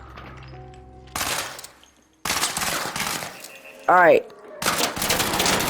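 An Arpeggio gun in Arc Raiders fires in rapid bursts of loud, close shots that come in separate stretches with short silent gaps between them. Someone speaks briefly, and a rising electronic game chirp sounds partway through.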